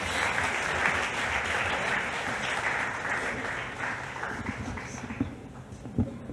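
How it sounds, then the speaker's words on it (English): Audience applause fills the hall at the Hindustan Times Leadership Summit 2022, greeting Sachin and Lara: dense, steady clapping from a large crowd that carries evenly for the whole stretch and thins slightly near the end. "Big round of applause, everybody."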